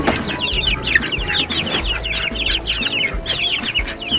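Young incubator-hatched chickens cluck continuously on a farm, a dense overlapping chorus of short repeated clucks and chirps, close and fairly loud, with no talking.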